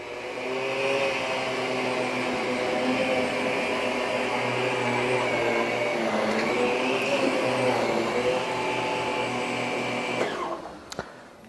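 A Miele Guard L1 Electro canister vacuum cleaner runs on low suction with a steady, loud motor whine and airflow hum that stops abruptly near the end.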